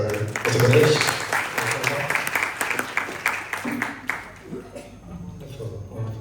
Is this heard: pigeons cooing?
no